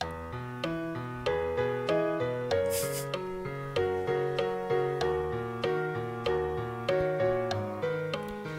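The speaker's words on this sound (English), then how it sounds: "So I'm going to play the piano" Piano plays steady, evenly spaced chords in a regular repeating rhythm, each note struck clearly and decaying before the next.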